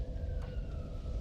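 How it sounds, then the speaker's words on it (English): An ambulance siren goes by outside a home next to a hospital, a wailing, gliding tone that is moderately loud over steady low rumble, with no talking. "That is a ambulance."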